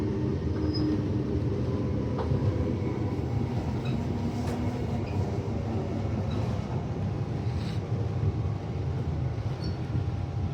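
A Brisbane Cleveland Line train pulling into Wynnum Station, heard from inside as a steady, loud rumble of wheels on rails with faint squeals and clanks throughout, no voices.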